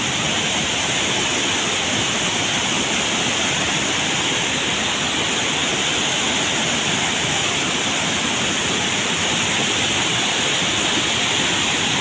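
A waterfall at Kurmingia in Kandhamal, Odisha roars in a dense, constant wash of rushing water, loud and unbroken from start to finish with no voices.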